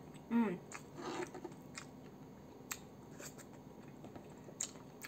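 Close-miked chewing and crunching of spicy crushed fried chicken, Indonesian ayam geprek served with pecel, in a soft eating session, with a few louder bites and quiet smacking between them.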